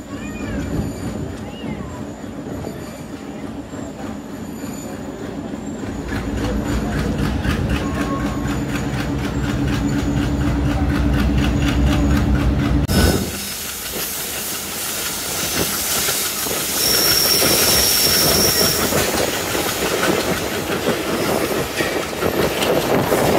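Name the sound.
Nakshikatha commuter train leaving Kamalapur railway station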